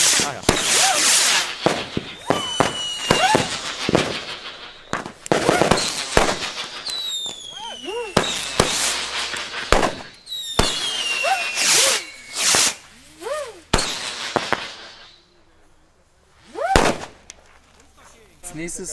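Firecrackers and fireworks set off on a street on New Year's Eve, a rapid series of sharp loud bangs and crackling bursts with whistling rises, close and intense, with voices heard between the blasts.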